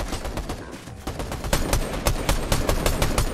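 Rapid bursts of automatic gunfire in a Fortnite Zero Build match, sharp repeated shots firing steadily and close, growing louder and denser toward the end with no talk over them.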